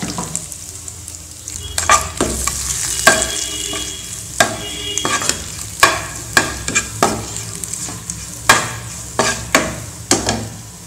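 Dried red chilli, curry leaves, mustard seeds and rasam powder sizzle in hot oil for a Tamil rasam, with a steady frying hiss broken by repeated sharp clinks and scrapes of stirring, close and fairly loud with no talk.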